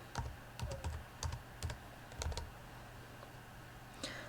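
A single word is typed on a computer keyboard: a quick burst of close keystroke clicks, then a pause and one final click.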